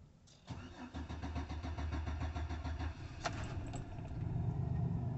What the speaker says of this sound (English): Give you a cold start.